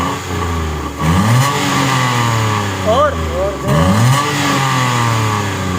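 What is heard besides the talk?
Suzuki Alto VXL 660cc car engine revving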